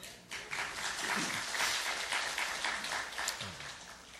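A church congregation claps after a hymn is sung: a sustained wash of many hands applauding, fairly distant and soft, steady throughout with a few brief voices murmuring underneath.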